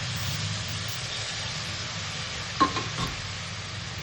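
A little water goes into a pan of mourala fish frying for a curry. A steady soft sizzle and hiss runs throughout, with a few brief clinks and a short splash-like burst near the end, with no talking.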